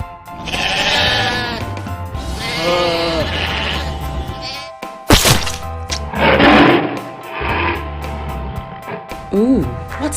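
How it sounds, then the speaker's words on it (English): Sheep bleat in several loud, wavering calls with pauses between them, up close, alongside speech. "It's sheep."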